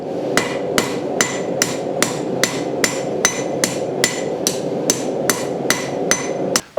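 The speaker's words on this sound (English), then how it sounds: "I've just beaten on that for a while now, and it hasn't put any dents in the top of that anvil" Hammer blows on a Vevor 110 lb (50 kg) London pattern anvil, mounted on a stand built to keep it quiet: about fourteen sharp, evenly spaced ringing strikes, close and steady, over a low continuous background rumble, with no talking.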